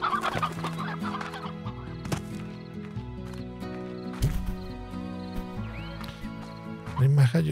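A rooster clucks repeatedly in the Slime Rancher video game, close and clear against layered game music and effects, with someone speaking over parts of it.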